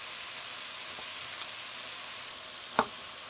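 Beef browning for a beef and stout stew, giving a steady, moderately loud sizzle in the pan with a few light clinks and one sharp knock near the end, and no voices.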